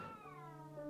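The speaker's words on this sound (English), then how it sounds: "you can hear my poor 22-year-old cat" An elderly 22-year-old cat meows in one long, drawn-out yowl, a clear falling harmonic cry heard up close over a steady low hum.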